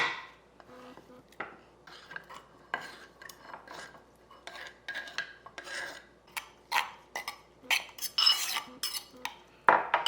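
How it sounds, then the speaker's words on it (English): Chopped tomatoes and green onions go into a whisked egg mixture seasoned with garlic powder. A utensil clinks and scrapes against a bowl in quick, irregular taps that grow louder toward the end, up close with no talking. "Now I'm going to add my tomatoes and green onions."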